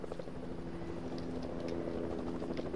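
A Fortnite helicopter drones steadily nearby, its rotor giving a low, throbbing hum that holds at an even level throughout, with no voices over it.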